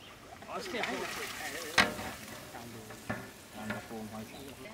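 Oil sizzles and crackles in a pan as big tilapia pieces are added to hot curry and stirred, with a few sharp clinks and scraping; a voice talks faintly in the background.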